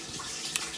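Shower water running, a steady close wash of spray with no voices.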